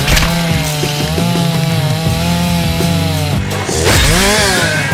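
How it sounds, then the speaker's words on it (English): A video game chainsaw revs loudly and continuously at close range, its engine drone wavering in pitch over about five seconds with a rising rev near the end and no talk. "say hello to Chainsaw."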